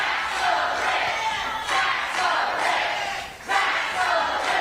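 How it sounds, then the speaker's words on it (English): A crowd at a Republican town hall chants "tax the rich" loudly and continuously in rhythmic, surging bursts, filling the room with voices. "I never thought that I would hear tax the rich being chanted at a Republican town hall"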